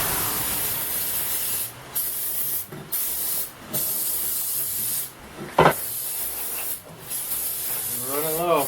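Hissing aerosol spray bursts while prepping the pistons and deck of a junkyard LS swap engine, loud and close in repeated blasts with short pauses, and a voice briefly cuts in.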